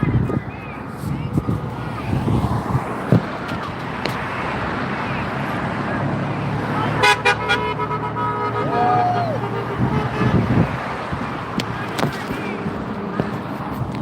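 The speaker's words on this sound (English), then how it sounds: "I can't hear them over the traffic" Street traffic with car horns beside a Tesla protest: steady roadway rumble and wind buffeting, with several sharp horn toots scattered throughout and a longer tonal honk near the middle, and people talking faintly under the noise.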